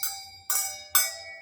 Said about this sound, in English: Maybe they are handbells.